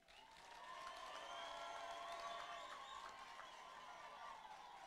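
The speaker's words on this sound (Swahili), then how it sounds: "Tumkaribishe kwa makofi." An audience applauds to welcome a speaker, a steady wash of clapping that swells in within the first second and carries on evenly to the end, with no talk over it.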